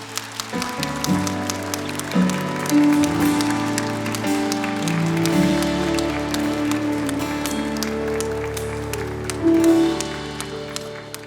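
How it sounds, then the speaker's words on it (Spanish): Church congregation applauding after a sermon, steady clapping under sustained organ or keyboard chords and music, lasting throughout at moderate level. "Y vamos a aplaudir por el uno y el otro"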